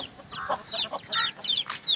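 Young chicks and hens in a coop cluck and peep in quick, uneven bursts, fairly close and loud. Sharp high chirps are mixed with lower clucks, and no one speaks.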